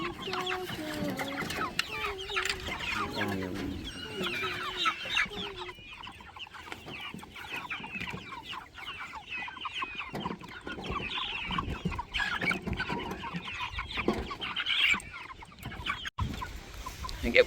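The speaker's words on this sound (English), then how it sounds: "we're gonna go feed the meat birds out in the field" Meat-bird chickens clucking steadily in a farm field, several birds close by with overlapping calls, mixed with footsteps and handling noise and occasional faint rooster-like notes.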